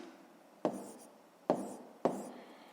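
Pen or chalk strokes from writing out a fifth-grade math exercise land as three short, sharp scratches, each fading quickly, close by and otherwise quiet.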